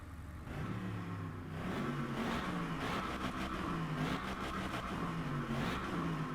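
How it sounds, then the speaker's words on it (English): An Aston Martin V12 Vantage S in the racing game Driveclub, driven on a Japan track, its engine revving and climbing through gears with a loud, steady, harmonic drone and rising pitch sweeps, heard close with no talking. "let's listen to this engine"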